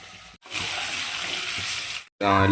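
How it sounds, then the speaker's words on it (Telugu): Tamarind water pours steadily into a pan of fish curry for nearly two seconds with a gushing, sizzling wash, then stops abruptly. "కొంచెం చింతపండు వాటర్ పోసుకున్నది"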